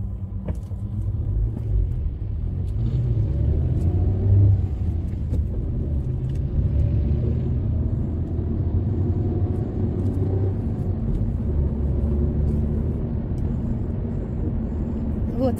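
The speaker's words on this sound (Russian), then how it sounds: "сейчас вот мы немножко в пробке" Cars idle and crawl through a traffic jam on a city street in The Hague, a steady low rumble heard close from inside a vehicle, with faint engine drones rising and falling throughout.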